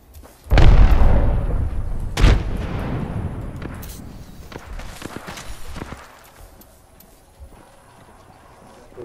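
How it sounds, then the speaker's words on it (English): Grenade blast in the battle-royale shooter Apex Legends, a sharp loud explosion followed by a second boom and a decaying rumble with scattered impacts and debris, fading over several seconds. "Grenade out!"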